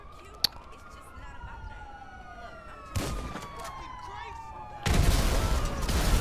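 A police car siren in a video game wails with a long falling, sweeping tone across the whole stretch, overlaid by sharp bursts of gunfire and explosions midway and near the end.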